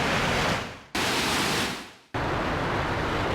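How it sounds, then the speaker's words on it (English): A soundfont ambience patch of rushing noise like wind or ocean, three loud hissing swells, each cut off abruptly before the next begins. "It's like wind or ocean."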